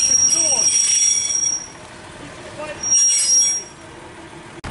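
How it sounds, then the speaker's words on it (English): A Class 142 Arriva Trains Wales diesel unit pulls away at Barry Docks with a rising rumble and high-pitched wheel squeal, heard close by in two waves as it passes, with voices talking nearby. "departing now is 142069 on the 1533 Arriva Trains Wales service to Merthyr Tydfil from Barry Island"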